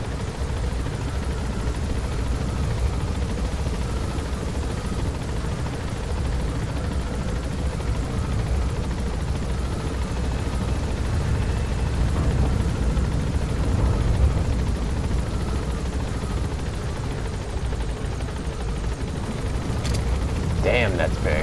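A helicopter in Metal Gear Solid V: The Phantom Pain, a continuous low rotor and engine drone that stays steady and fairly loud for the whole stretch, with a few faint game sounds toward the end.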